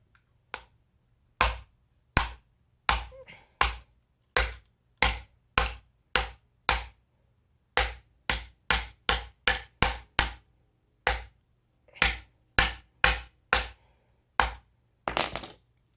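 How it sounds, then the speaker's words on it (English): Sharp metallic hammer strikes tap down the end bell of a legacy Casablanca ceiling fan motor, about two dozen crisp, isolated blows in uneven bursts with short pauses, close and clear. "it's time to hammer the end bell down."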